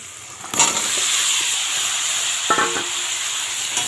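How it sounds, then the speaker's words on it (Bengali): Chopped ridge gourd tipped into a hot pan sets off a sudden loud, broad sizzle that holds steady, with a few clinks and scrapes of a utensil against the pan. "তারপর ঢেলে দেব এই যে কেটে রাখা ঝিঙেগুলো"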